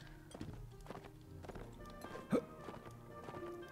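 Rhythmic hoofbeats of a galloping horse in the video game Mount & Blade: Warband, fairly quiet, with a brief snort-like burst midway and a low background hum.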